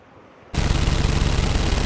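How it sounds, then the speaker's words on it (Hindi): Several rifles fire at once in a dense burst of gunfire that bursts in suddenly after half a second of quiet, then holds as a loud rattling roar with quick repeated pulses. "अगले ही पल कई राइफलें एक साथ जला गुजरी और कई गोलियां बर्बाद हो गई।"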